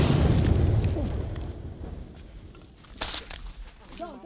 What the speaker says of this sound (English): The explosion you just heard was from soldiers using explosives to destroy an excavator in the forest